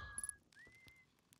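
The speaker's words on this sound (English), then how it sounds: "Good whistling, bro." Whistling in the Outer Wilds game: a brief tonal whistle, then a longer rising note that holds steady, with faint game ambience and small clicks.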